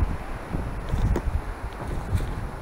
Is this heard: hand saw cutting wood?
no